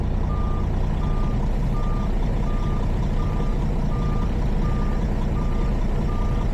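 A truck backing up with its trailer during a basic control skills test, with a steady reversing alarm beeping about nine times in an even rhythm over a loud, constant diesel engine rumble.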